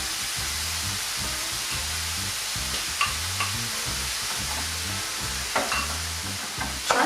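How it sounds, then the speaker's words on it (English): Chopped and grated vegetables sweat in a pan for a sausage ragu, giving a steady, close sizzle with repeated scraping and stirring strokes throughout, and no talking. "the vegetables are just sort of sweating a little bit and bringing out the flavour"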